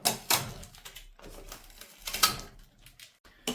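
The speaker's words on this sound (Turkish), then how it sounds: "Ardından şu aşağıdaki bantları da sökelim." Protective tape being peeled off the body of a new Bambu Lab P2S 3D printer during unboxing, heard as a few short, crackly ripping pulls in separate bursts, close and fairly quiet, with no talking.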